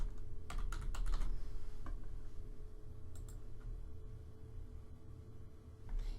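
Rapid keystrokes on a computer keyboard, entering a prescription into a web search, arrive in quick irregular bursts over a low steady hum, clearest near the start and trailing off.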